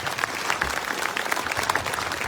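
An audience at a Punjab political gathering claps loudly and continuously to welcome two leaders, a dense, even burst of applause from many hands filling the whole moment.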